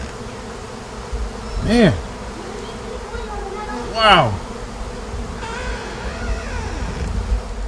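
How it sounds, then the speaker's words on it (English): A swarm of honey bees flies close past in loud swooping buzzing passes at a front door, against steady background noise, while a man exclaims briefly. "There is a swarm of bees."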